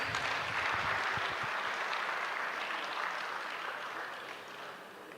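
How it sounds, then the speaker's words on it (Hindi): Applause from an audience at a charity appeal event for flood victims, a dense, steady wash of clapping that gradually tapers off, with a few distinct claps near the start. "भरपूर तालियाँ हो जाएँ।"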